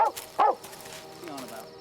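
Dogs barking in the English countryside during a wartime hunt for an escaped German prisoner of war, with two loud, close yelps early and softer barking and whimpering trailing behind.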